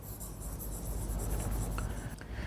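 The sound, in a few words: writing on paper or board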